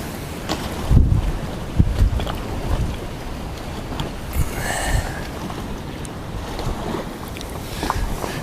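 Wind gusts across Island Lake, buffeting the microphone with heavy low rumbles and steady rushing noise.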